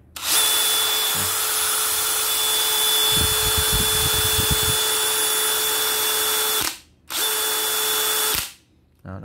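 A DeWalt DCD996 cordless hammer drill whirs loudly and steadily for several seconds, briefly stops, runs again, then cuts off; a rattling grind appears midway.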